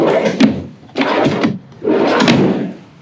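Drawers in a 2021 Forest River Grey Wolf 26DBHBL travel trailer slide open or shut three times in a row, each a short, close, rumbling wooden glide with brief gaps between.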